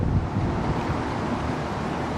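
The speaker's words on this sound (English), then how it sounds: "The wind blew me in so fast." Wind blowing hard outdoors near water, roaring as a loud, broadband rush of gust against the microphone that stays constant and unbroken.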